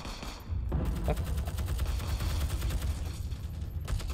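Sustained, rapid machine-gun fire in a video game from a weapon holding a 100-round magazine, loud and close, continuing as a dense stream of shots for several seconds.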